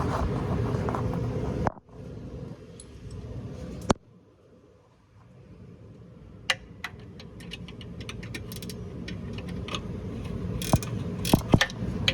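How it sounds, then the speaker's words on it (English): A hand ratchet tightens small bolts in a cramped space underneath, giving faint, sparse clicking and ticking with quiet pauses between bursts. "finding all of these little bolts here, tightening these all down."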